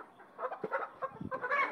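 Several chickens, part of a batch of twenty-four being sold, cluck in short, close bursts without any talk.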